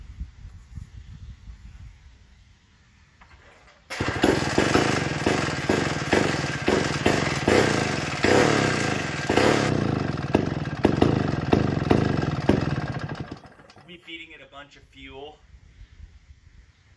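A McCulloch Model 99 engine, freshly repaired after fuel leaks, bursts into loud close running with a rough, stuttering rhythmic clatter, then cuts out near the end; a voice talks before and after it runs.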